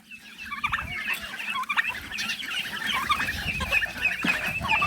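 Hungry ducks and chickens crowd together at feeding time on a farm, a dense, continuous clamour of quacking and clucking close by, with no speech.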